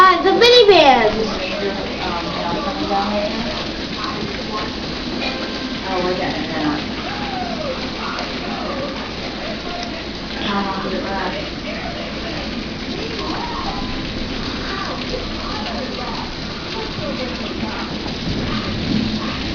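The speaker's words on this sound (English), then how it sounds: "Hail! Hail the hail." A hailstorm pours down hard and steadily, with rumbles of thunder beneath, birds calling in the background and people talking over it throughout.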